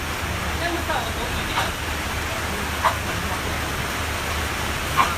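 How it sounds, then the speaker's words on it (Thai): Rain falls in a steady, even hiss that carries unbroken throughout, with a couple of faint taps or drips standing out briefly. "โอ้ยฝนตกครับ"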